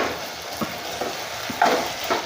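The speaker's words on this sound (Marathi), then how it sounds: "त्या कांद्यावर लाल झालेलं मस्तपैकी मेरिनेट केलेलं मटण टाकलं आहे" Marinated mutton sautéing over onions fried until reddish-brown for a black mutton curry, a steady sizzle with scraping stirs and a brief louder spatter of fat near the middle, no talk.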